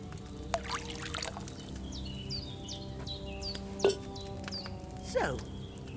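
Wine is poured from a pitcher into a cauldron in the game Kingdom Come Deliverance II, a soft trickling pour under quiet ambience with bird chirps in the background.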